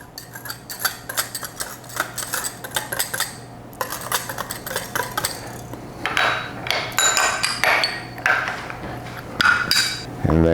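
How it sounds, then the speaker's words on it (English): A whisk clatters briskly through dry pancake ingredients (flour, baking soda, salt, cinnamon and sweetener) in a bowl, quick metallic ticking strokes in bursts, close and loud, with a brief pause midway. "And then just whisk these things together."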